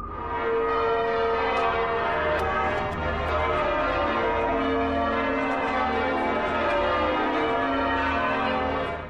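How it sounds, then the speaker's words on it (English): Church bells ring outside York Minster cathedral, a dense, sustained wash of overlapping bell tones heard steadily from start to finish. "The bells are ringing and the cameraman is taking it all in."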